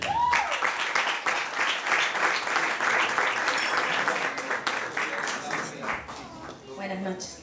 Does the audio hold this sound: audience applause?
yes